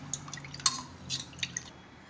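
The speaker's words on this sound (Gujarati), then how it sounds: "હવે આપણે આમાં પાણી નાખશું." Water poured into a blender jar of fennel sharbat gives faint, close dripping and splashing, with a few sharp drip accents over about two seconds.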